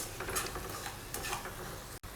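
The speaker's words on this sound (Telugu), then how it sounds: "నెక్స్ట్ ఇవన్నీ కూడా బాగా కలిసేటట్టు మిక్స్ చేసుకోవాలండి." A spoon stirs and mixes spices and salt in a cooking pan for a cabbage with eggs dish, a continuous scraping rustle with light sizzling throughout.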